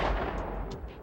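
A short burst of gunfire as a sound effect, a heavy boom with a rumbling decay lasting about a second.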